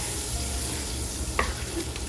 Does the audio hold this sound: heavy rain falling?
no